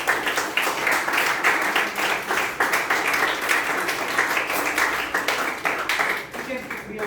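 An audience at a youth leadership meeting claps and cheers, with many hands applauding in a dense, sustained burst that stays lively throughout and eases slightly toward the end.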